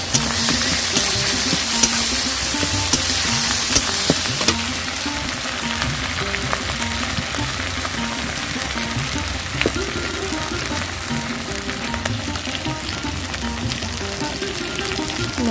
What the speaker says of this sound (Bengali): মশলাগুলো ভালোভাবে একটু ভেজে নেওয়ার পরে আমি টমেটোটা দিয়ে দিলাম।